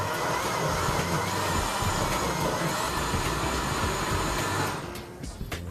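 A blender purees smoked jalapeños and pasilla chilies into a chili sauce, a loud steady whir that runs without a break for about five seconds and then drops off sharply into a quieter tail.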